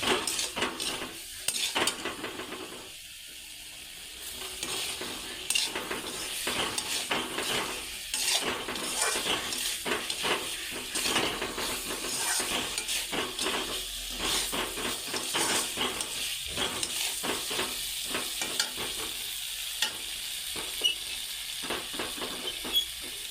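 Papaya with spices frying in a pan while being stirred: a close, constant hiss of sizzling broken by frequent sharp scrapes and clinks of a utensil against the pan, with no talking.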